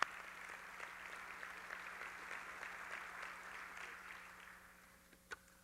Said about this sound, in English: Let's give Howard a big round of applause